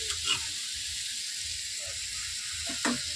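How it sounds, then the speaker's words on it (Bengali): Mustard paste hitting a hot pan in a vegetable chorchori, a soft steady sizzle with occasional faint clinks and a brief louder scrape near the end; no one speaks. "এবার সর্ষে বাটাটা দিয়ে দেবো"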